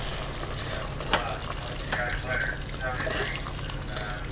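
Water streams into a cooking pot in a kitchen, a soft pouring and splashing held under a steady background hiss, with a sharp clink near the middle.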